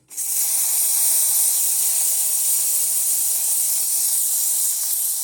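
A Gaggia Classic espresso machine's steam wand hisses steadily and loudly, a continuous close, bright rush of steam starting abruptly and holding for the whole stretch without voices.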